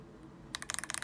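Quiet hum, then a quick burst of typing on a Feker Alice 80 gasket keyboard with 37-gram linear switches, several soft rapid key clicks close by.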